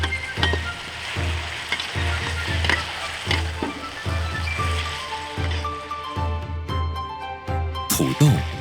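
Pickled radish, cured with wild chrysanthemum, is stir-fried with yak meat. A loud, close sizzle is broken by regular stirring scrapes, and a voice speaks over it.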